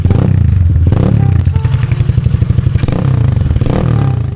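Loud motorcycle exhaust fitted with a fabricated silencer, a harsh rapid pulsing engine rumble that rises and falls close to the recorder, heavily overdriven and clipping throughout.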